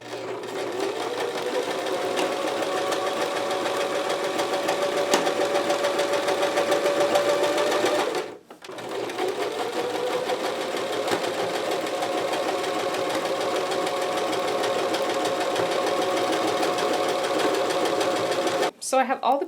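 A sewing machine stitches a unicorn hoodie costume, running in a steady continuous whir with a brief stop around the middle and another near the end, loud and close.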